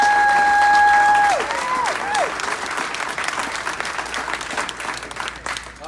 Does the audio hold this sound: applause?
yes